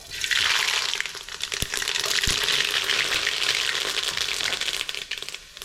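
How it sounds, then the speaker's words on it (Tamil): Hot oil with mustard seeds crackles and sizzles steadily up close, with a few sharp pops breaking through the bright hissing. "ரசம் தாளிக்கிறதுக்கு எண்ணெய் சூடாயிட்டு கடுகு சேர்த்துக்கிறேன்"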